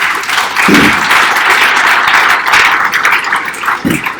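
A conference audience breaks into loud, sustained applause, a dense wash of clapping with a couple of low thumps and brief vocal bursts mixed in.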